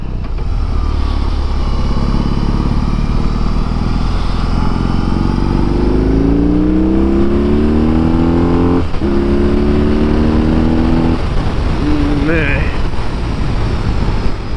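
A BMW two-cylinder cruiser motorcycle is ridden in rock mode, its loud engine droning close and continuous, pitch climbing steadily as it accelerates, dipping at a gear change, then climbing again.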